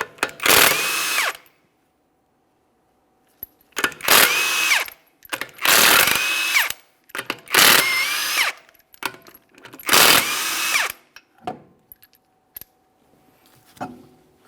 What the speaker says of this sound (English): you're going to remove all 5 of your 21mm lug nuts so we can get the wheel off of here.